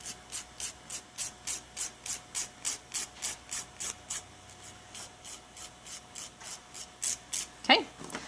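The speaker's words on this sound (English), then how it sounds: "go ahead and file it off at a nice 90-degree angle for the perfect shape" A glass nail file rasps off excess nail wrap from a fingernail in quick, even back-and-forth strokes, close and crisp, about twenty-five strokes with a short pause near the end.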